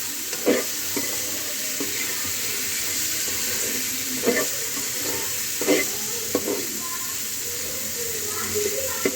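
Spiced paneer bhurji fries in a pan with a steady hiss, broken by several scraping spatula strokes as it is stirred, close and fairly loud with no voice.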